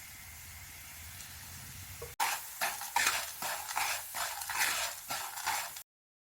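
Fennel seeds and sugar syrup get stirred in a pan, a steady run of scraping, rustling strokes with a faint sizzle, close and alone before cutting off abruptly.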